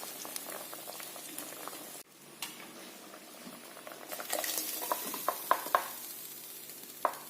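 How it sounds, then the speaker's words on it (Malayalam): Kilimeen fish curry simmering in a pot, a soft steady bubbling with a few brief clinks of a utensil against the pot toward the end, close by and moderately quiet, with no talk. "മീൻ തിളച്ചു. പിന്നെ അരപ്പ് ചേർത്ത് മൂടി വെച്ച് വേവിക്കാം."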